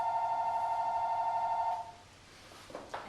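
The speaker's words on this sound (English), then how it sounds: "And there's my phone." A phone rings with a steady electronic trill during a live-taped breathing and movement session, the tone repeating evenly before cutting off, followed by faint rustling movement.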